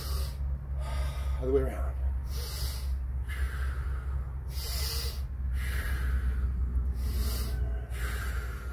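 Deep rhythmic breaths during a breathing exercise, a series of strong hissing inhales and exhales repeating about every second or so, close and loud, with a brief spoken remark partway through.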